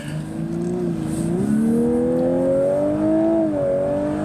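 A 2023 Lexus LC 500h engine revs steadily, its pitch climbing in smooth stages then dipping slightly, a close, sustained hybrid V6 drone heard alone without talk.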